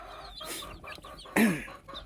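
A hen from Thai breeding gamefowl stock clucks in short, uneven bursts close by, with one louder, sharper squawk partway through.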